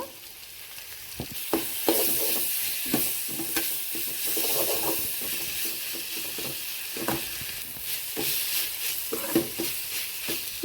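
Ginger garlic paste frying and being stirred in a pan, a steady sizzle under repeated scraping and clinking strokes of a spoon, close and clear with no talk.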